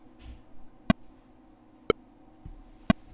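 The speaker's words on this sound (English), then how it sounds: "Now, when I click the number 3 to start recording, you can hear the metronome." Pro Tools click track metronome ticking three sharp, evenly spaced clicks about a second apart, fairly quiet over a faint background hum.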